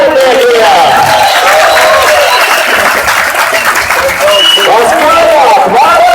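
Spectators applaud steadily at the opening of the Prestigio EEDC 2014 East European street racing championship at Bikernieki, a dense, loud wash of clapping and cheers that runs throughout while an announcer talks over it.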